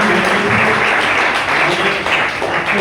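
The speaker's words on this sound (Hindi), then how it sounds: "तो एक बार जोरदार ताली होनी चाहिए आरती जी के लिए" Sustained applause from an audience at a business plan-show event in Panipat, dense clapping that fills the room loudly and steadily from start to finish with no voices over it.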